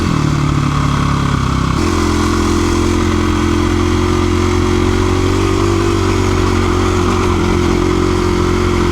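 Dual sport motorcycle engine droning loud and close while riding through a thick, soft, gravelly silty wash in Red Rock Canyon, with a steady rumble that shifts pitch as the rider changes throttle.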